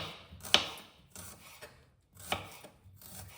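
Knife finely chopping shallots on a board, a few bursts of quick cuts separated by short pauses, close and fairly quiet.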